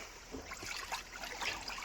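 Cold mountain water flowing near Nainital, a soft, faint trickling and gurgling stream heard alone at close range.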